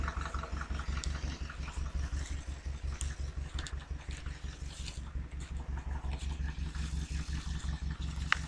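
An old Fiat 352C tractor engine running at a steady idle, its low, rapid rhythmic chugging close and continuous with no talk over it.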